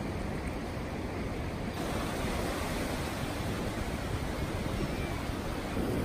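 Pacific Ocean surf washes steadily onto the shore as a constant broadband rush with no distinct breaks, heard from nearby at moderate level.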